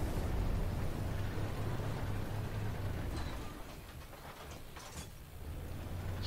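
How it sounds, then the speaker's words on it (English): A large explosion in the tank combat game Armored Warfare, a loud, sustained rumbling blast filling the first three seconds before settling into lower battle noise with some scattered crackles. "spectacular explosion there it was."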